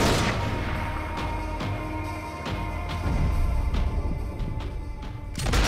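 Sniper rifle gunfire in the video game Max Payne 3, with several sharp, loud shots at irregular intervals over a dense, rumbling game soundtrack.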